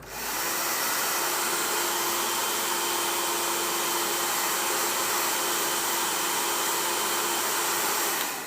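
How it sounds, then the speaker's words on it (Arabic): A hot hair dryer blows on a bleached beard strand from about two hand-spans away, a loud, even whoosh that runs steadily from start to finish with no talking. "10 دقائق استشوار حار من بعيد، تقريبا شبرين هيك"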